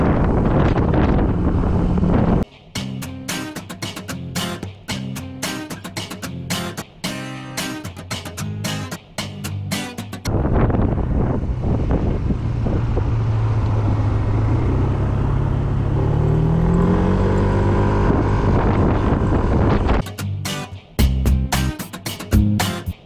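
A 2020 Yamaha Smax scooter ridden along a road on a cold day, with heavy wind buffeting the microphone over a steady engine drone that rises and falls in pitch as it accelerates, loud and close throughout.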